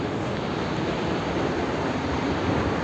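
Winter waterfall in the Jura heard from just in front of it, a steady dense roar of falling water, close and loud, with no break for the whole moment.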